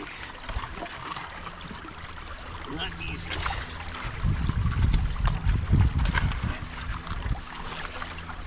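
Water rushes steadily through a prototype gold sluice, a continuous close flowing wash that swells louder midway, with someone talking briefly over it.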